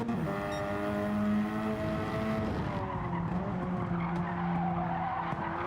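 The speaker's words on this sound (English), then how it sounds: "His tyres are crying." Tyres squeal and skid for several seconds on racing cars in a Gran Turismo 7 race, a steady high scrub over engine drone that shifts pitch midway.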